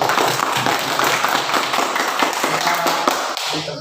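A classroom group claps for a presenting team, a quick burst of close, brisk hand claps with uneven rhythm lasting a few seconds.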